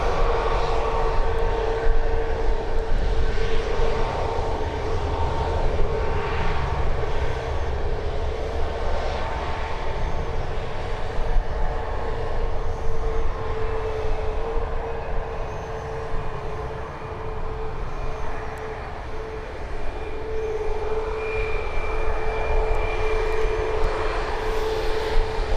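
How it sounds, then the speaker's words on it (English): A Ryanair airliner departs Birmingham Airport, its jet engines roaring loudly and steadily at close range with a sustained whine, the thrust swelling and easing only slightly over the whole stretch. "Ryanair departure."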